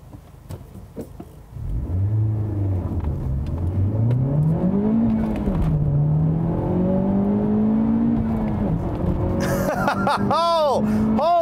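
A 2017 Honda Civic Type R engine revs hard under acceleration, its rising tone sweeping up through the gears, loud and close inside the cabin, with a voice talking over it.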